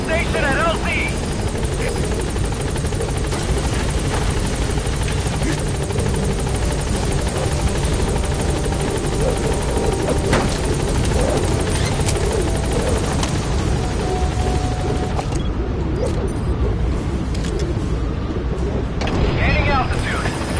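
A helicopter in Metal Gear Solid 5 arrives at a landing zone, its rotor thudding loudly and continuously throughout, with radio voices speaking over it.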